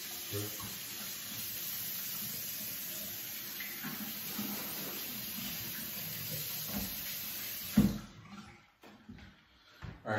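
A bathroom tap runs steadily for rinsing after tooth brushing and flossing, a continuous close hiss of water that cuts off near the end, followed by a few small clatters and handling sounds.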